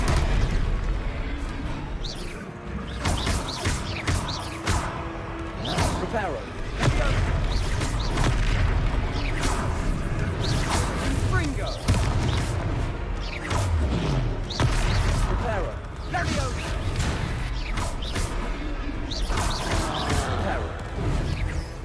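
Confringo explosion spell blasting in Hogwarts Legacy, a dense barrage of crashing booms and thuds layered over continuous game battle noise, loud and sustained throughout.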